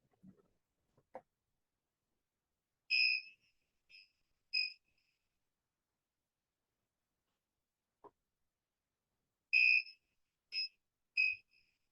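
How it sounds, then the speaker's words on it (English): A quiet high-pitched piezo buzzer beeps in short groups, two bursts then a pause, then a quick run of three beeps, with silence between. "you can see the buzzer is buzzing in a particular pattern"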